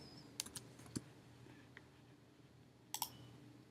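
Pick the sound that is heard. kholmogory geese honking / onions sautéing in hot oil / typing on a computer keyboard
typing on a computer keyboard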